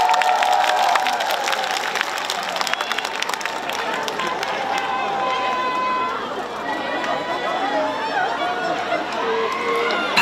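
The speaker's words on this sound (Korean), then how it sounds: "박수만 해주시겠어요?" A concert crowd at the Yongin Cheoin-seong cultural festival claps and cheers loudly throughout, with voices rising over the broad wash of applause and the noise holding strong for ten seconds.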